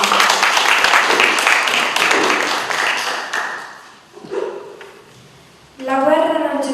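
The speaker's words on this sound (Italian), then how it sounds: "Facciamo un applauso a Cristina" An audience applauds a young poetry reader at a literary meeting with a writer and director. The clapping is loud and dense at first, then thins and fades, and a voice begins speaking near the end.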